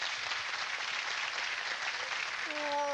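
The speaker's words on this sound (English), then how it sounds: "let's give her a round of applause" Steady, even applause from a gathered crowd of onlookers, a continuous wash of many clapping hands at moderate level, ending as a brief tonal sound cuts in near the end.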